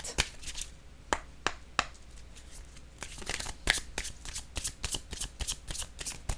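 Tarot or oracle cards being shuffled and drawn during a general intuitive card reading, with crisp riffling flicks and sharp snaps repeating unevenly, close and clear with no talk.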